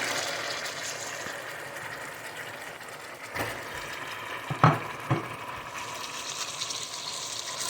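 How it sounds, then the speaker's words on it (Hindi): Pieces of fish slide into a pot of half-cooked potato curry, a few soft splashes and a brief clatter rising over low simmering and faint sizzle. "तो अब इसके अंदर हम फ़िश डाल देंगे"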